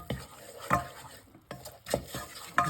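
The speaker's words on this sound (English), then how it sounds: "Right, stir the tom tarapuri in." A spoon stirs tomato puree into a meat sauce cooking in a pan, giving several soft, wet scraping strokes at a steady rhythm, close up with a faint sizzle underneath and no talking.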